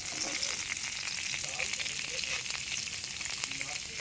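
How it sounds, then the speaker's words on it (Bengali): Cut potatoes fry in hot mustard oil in a wok, giving a steady, dense sizzle that crackles continuously at moderate volume with no talking. "আলু ভাজার জন্য যে আলু কেটে ধুয়ে পরিষ্কার করে রেখেছিলাম সেগুলো কড়াইয়ে দিয়ে দেব।"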